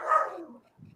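A dog gives a single short bark, loud and close, followed by a soft low trailing sound.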